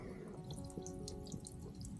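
Water drains out of the back of a boat, a steady close trickle with scattered drips and splashes running without pause and no talking.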